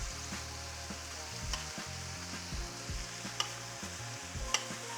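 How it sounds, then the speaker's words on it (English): Beef chunks brown in a hot Dutch oven as their fat renders, giving a steady soft sizzle under a low hum, broken by occasional utensil clinks and scrapes. "Right now, some of that fat is rendering in this pan."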